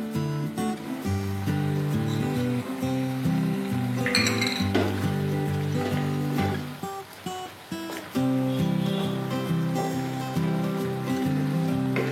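Long bean kofta dropped into a simmering curry, with gentle sizzling under clinking of a metal spoon against the pan and a lively kitchen background; no speech.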